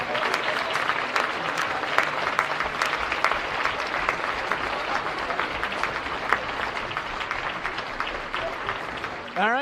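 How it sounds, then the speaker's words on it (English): Sustained crowd applause honoring four seniors at a senior night, steady dense clapping filling the space for several seconds without a break. "Ladies and gentlemen, let's give these 4 seniors one final round of applause."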